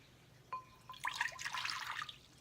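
Cold water pouring into a bowl, a cup's worth for a cornstarch solution, starting with a small clink and then a steady splashing pour for about a second and a half, close and moderately loud.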